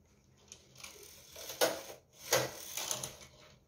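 A knitting machine carriage slides across the needle bed while baby booties are knitted, making close mechanical clacks and ratcheting rattles in a few short bursts, with two louder sweeps in the middle.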